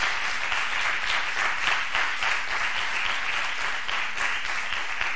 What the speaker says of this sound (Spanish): solo me resta dar un fuerte aplauso a Pablo.